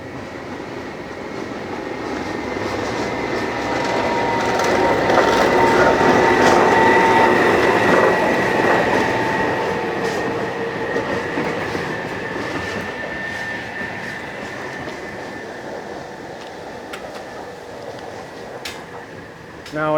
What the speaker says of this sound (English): Here comes a train for you, coming down.